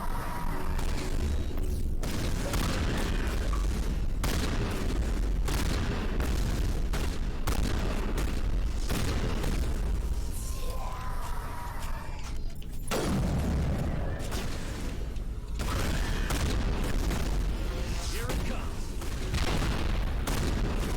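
Heavy shotgun blasts and booming gunfire in the Mass Effect Legendary Edition video game, repeated loud shots and impacts throughout a long firefight, with voices talking at times underneath.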